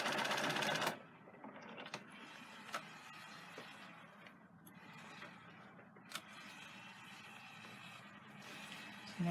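Sewing machine stitching a neckline seam, a quiet steady mechanical whir with a few sharp clicks and a louder burst at the start and end.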